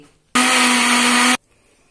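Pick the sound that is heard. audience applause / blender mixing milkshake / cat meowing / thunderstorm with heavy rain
blender mixing milkshake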